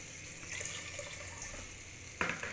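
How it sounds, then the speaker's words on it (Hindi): Water poured into a cooking pot of daal mash, a faint wash of liquid over kitchen background hiss, ending in a short louder splash. "पानी असीं इहदे च ऐड कर दिता है"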